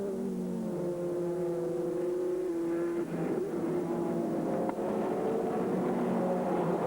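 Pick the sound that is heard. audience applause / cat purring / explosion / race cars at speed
race cars at speed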